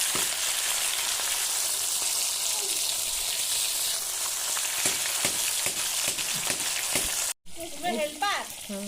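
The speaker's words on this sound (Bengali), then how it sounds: "মাছগুলো আমি ভেজে নেব, হালকা করে ভাজবো।" Fresh pond tilapia fries lightly in oil with a constant close crackling sizzle. Utensils tap against the pan now and then, and a short cut near the end leaves quieter frying.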